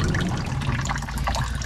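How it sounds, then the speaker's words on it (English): Ranunculus corms being set back into a container of water, giving a short stretch of soft sloshing and trickling liquid, close and fairly quiet. "I'm gonna put them back into the water, let them go for a while longer"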